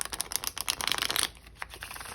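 Tarot cards shuffled by hand in a quick run of soft riffling flutters for just over a second, then a quieter, scattered patter of card handling with no voices.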